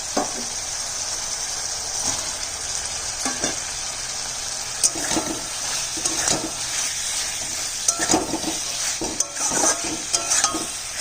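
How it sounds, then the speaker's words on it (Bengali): Fish poured into fried spices in a hot pan gives a steady loud sizzle, broken by occasional scrapes and clinks of a utensil stirring against the pan. "মাছটা ঢেলে দিচ্ছি।"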